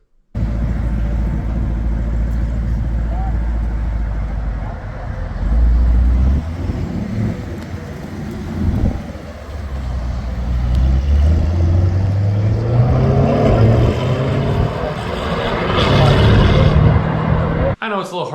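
A Corvette C8 with a 6.7 liter V8 drives off, a low engine rumble rising in pitch as it pulls away, partly masked by highway traffic and wind noise.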